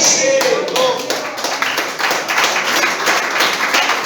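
A church congregation breaking into applause during a sermon, rapid overlapping claps rising and continuing steadily over several seconds, with voices calling out beneath the clapping.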